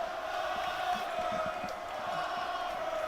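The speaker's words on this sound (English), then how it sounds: "the crowd is giving it to Cody Mitchell after that one" Basketball crowd in a college gym jeering a player after a flop, a sustained roar of massed voices with a steady droning tone, loud and continuous throughout.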